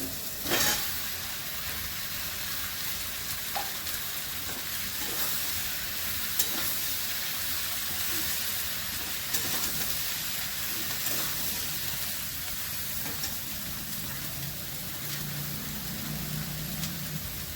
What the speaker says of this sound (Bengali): চিংড়ি মাছ পেঁয়াজ ভাজা হয়ে গেছে, আমি চিচিঙ্গাগুলো দিয়ে দিচ্ছি।